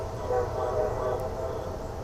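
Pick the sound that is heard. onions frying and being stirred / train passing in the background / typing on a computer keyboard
train passing in the background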